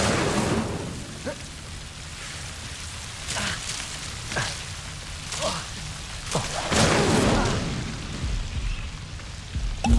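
Incendio fire spell cast in Hogwarts Legacy, a series of bursting whooshes and crackling flares over a steady noisy background, several loud blasts spread through the stretch.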